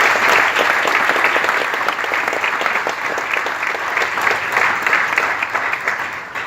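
A company gathering gives loud, dense applause for its team, a sustained wash of many hands clapping that holds steady, then tapers slightly near the end.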